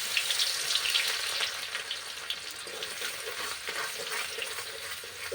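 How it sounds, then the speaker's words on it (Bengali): Crushed garlic sizzles in hot oil with a constant crackling hiss, close and steady throughout. "এবারে রসুনটা আমি তেলের মধ্যে দিয়ে দিলাম"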